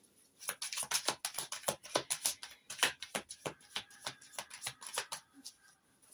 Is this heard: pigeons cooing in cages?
no